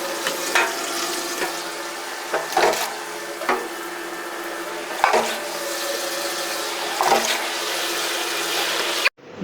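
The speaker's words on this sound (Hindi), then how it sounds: "अब इसको सबसे पहले अच्छे तरीके से वॉश कर लेंगे" Running water pours steadily over 8 kg of cut carrots being washed, with a continuous rushing stream broken by irregular splashes and sloshing as the pieces are stirred, until it cuts off abruptly at the end.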